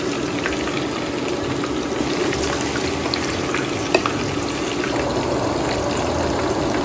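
Minced meat kebabs fry in a pan, giving off a loud, continuous close-up sizzle and crackle with a few sharper pops and no voices.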